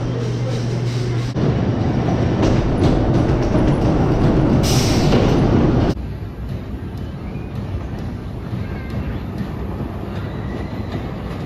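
Steady rumbling rail noise from a Voyage roller coaster train running its circuit at Holiday World, a continuous loud roar that drops slightly in level partway through, with no talking.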